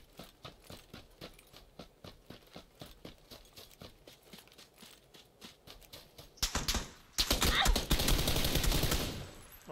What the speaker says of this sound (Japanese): いかつい銃声鳴らしてるね。